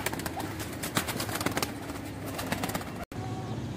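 A large flying pigeon coos among other birds, soft repeated calls set against a steady bed of chirping and outdoor noise.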